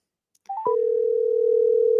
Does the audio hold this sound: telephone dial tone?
yes